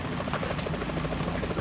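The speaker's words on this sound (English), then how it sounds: "Is that a chopper I just heard?" Helicopter rotor thrum from the video game Metal Gear Solid 2, a steady, continuous chopping drone that holds at even loudness across the whole short stretch with no speech over it.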